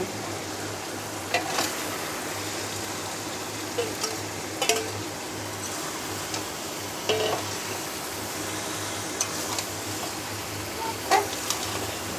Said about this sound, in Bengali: মশলা কষানো হয়ে গেছে, এবার দিয়ে দিচ্ছি মাংস।